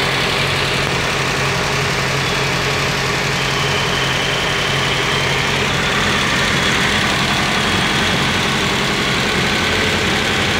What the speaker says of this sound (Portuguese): Primeira partida do carro